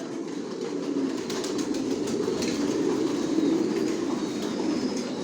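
Racing pigeons in a loft fill the air with a continuous low cooing murmur and soft rustling, moderately faint and steady, with no one speaking.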